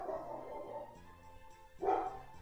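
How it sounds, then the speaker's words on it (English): A pet dog barks indoors: a muffled yelp first, then after a short pause a louder, nearer single bark, with no speech. "Whenever my dog barks at something, we tell her to get her ball"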